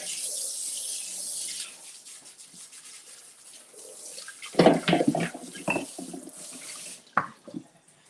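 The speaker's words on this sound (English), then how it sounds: "let me just do a quick rinse" Running tap water rinses dishes at a kitchen sink, a soft steady flow with brief louder splashes and clatter as items pass under the stream, fairly quiet and close.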